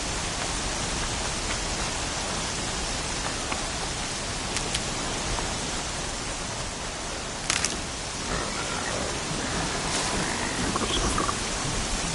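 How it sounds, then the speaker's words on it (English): Steady rain hisses densely throughout in Horizon Zero Dawn, an even wash of falling drops with a few brief sharper spatters. "Here comes the rain."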